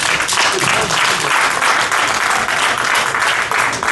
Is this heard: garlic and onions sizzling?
no